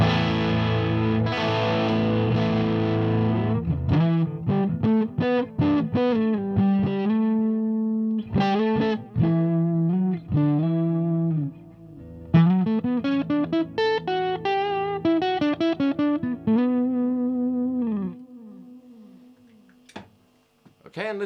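Ibanez Universe electric guitar with its original pickups plays a cleanish tone with no noise gate, ringing notes and chords continuously and up close for about twenty seconds, with no talking.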